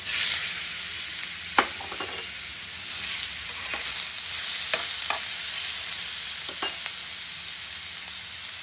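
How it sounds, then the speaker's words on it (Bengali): Chicken pieces frying in a little hot oil in a kadai, a steady broadband sizzle with occasional sharp scrapes and clinks of a spoon stirring, close and fairly loud, no talking. "তেলটা একটু গরম হলে আমি চিকেনটা এর মধ্যে দিয়ে দেবো।"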